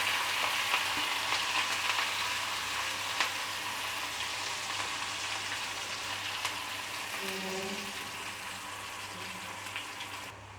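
Onion frying in a pan with mustard seeds and ajwain, a dense, steady rain-like sizzle that holds evenly throughout and softens slightly toward the end.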